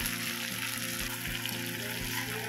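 Spinach hits a hot pan for a Bengali vegetable chorchori with bhetki fish bones, pumpkin, radish and potato, a continuous close sizzle and frying hiss with faint stirring clinks and no talk.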